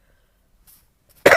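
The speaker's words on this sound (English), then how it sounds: "But I get this cough" A single sharp, close cough breaks out abruptly after near silence, preceded by faint breathing.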